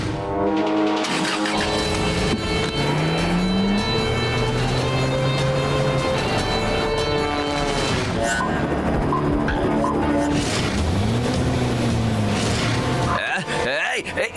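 Cartoon chase scene with a car driving, its engine and motion sounds running loud and continuous under constant music and effects, with voices speaking throughout and crashing noises near the end.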